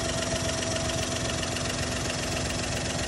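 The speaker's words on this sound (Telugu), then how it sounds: "సో మిత్రులారా, మనం ఇంజన్ నాయిస్ని చాలా క్లియర్గా అబ్జర్వ్ చేయొచ్చు" A Suzuki 800 car engine with about 100,000 km on it runs at idle while a carbon cleaner is slowly injected, giving a steady, close mechanical hum with faint knocking and vibration and no breaks.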